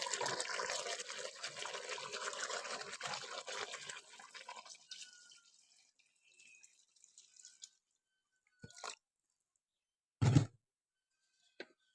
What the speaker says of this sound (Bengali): এখন আমি এর মধ্যে পানিটা দিয়ে দিচ্ছি।